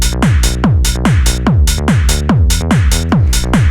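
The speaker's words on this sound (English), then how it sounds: "And then you get the hi-hat and the clap." A loud hard house drum loop with hi-hats and claps riding over punchy, booming kicks, repeating in a fast, steady, driving pattern.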